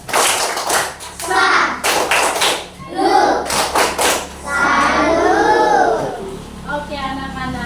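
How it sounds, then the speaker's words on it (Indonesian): A classroom of fourth-grade children gives a rhythmic clapping salute, bursts of hand claps mixed with children's voices and chanting, fairly loud and close throughout. "Tepuk salut untuk Mimi."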